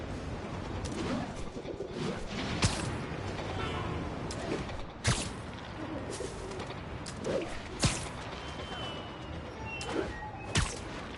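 Pigeon cooing from the Spider-Man PS5 game, soft repeated coos over a busy city ambience with several sharp louder transients scattered through.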